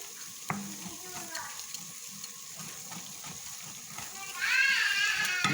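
A spoon stirs flour into melted ghee in a pan, with a soft sizzle and scraping close by and a voice talking.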